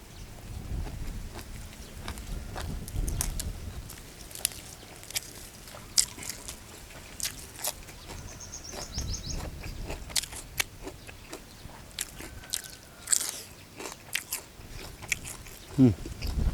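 Fried cicadas, eaten with other seasonal Thai country dishes, give repeated close, crisp crunches of chewing and biting, with voices talking now and then.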